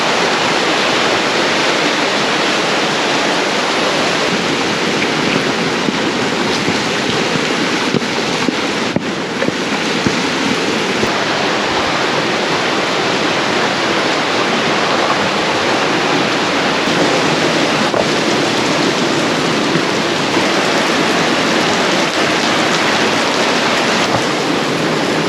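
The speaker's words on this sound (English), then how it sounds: "Check out that waterfall behind, and how epic was that rainbow?" Waterfall on a Grand Canyon hike roars as a loud, steady broadband rush that fills the whole stretch without pause.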